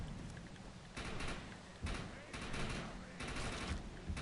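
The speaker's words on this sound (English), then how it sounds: "I'm using this automatic pistol" Rapid bursts of automatic pistol fire in the shooter game Defiance 2050, several dense clusters of shots separated by short pauses, fairly loud against a constant noisy game backdrop.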